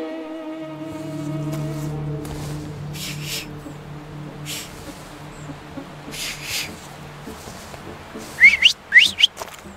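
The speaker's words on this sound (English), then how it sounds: "So, have you mastered whistling?" A character in The Thaumaturge video game whistles a few short notes over a sustained, low ambient drone, and brief, loud chirping bursts come near the end.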